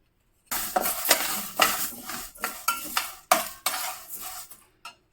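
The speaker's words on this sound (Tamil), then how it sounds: "ட்ரை ரோஸ்ட் பண்ண போகிறோம், எண்ணெயே விடாமல்." One cup of toor dal is dry-roasted in a pan on the stove without oil, giving rhythmic scraping and rattling bursts as it is stirred, close and fairly loud, with no voices.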